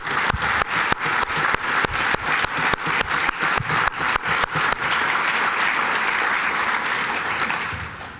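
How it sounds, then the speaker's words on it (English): An audience at a charity golf event claps in loud, evenly spaced beats that blend into continuous applause, which then slowly fades. "Please stand so we can applaud you."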